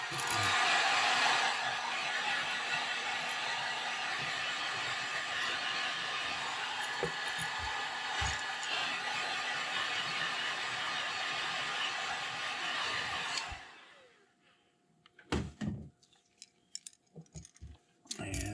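A heat gun heat-sets paint on a custom-painted Wiggle Wart fishing lure, blowing a loud, steady airy roar for about thirteen seconds before cutting off, leaving a few clicks and handling noises.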